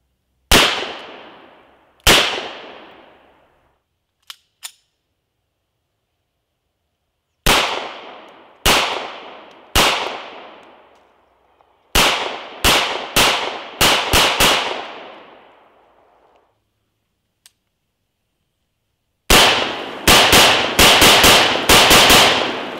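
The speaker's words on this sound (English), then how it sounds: "then also do shotgun double aught" Gunshots from a 9mm, a .357 Magnum and a double-aught shotgun fired at a bulletproof flight jacket outdoors: loud single reports with ringing decay, spaced at first, then quicker strings and a final rapid volley.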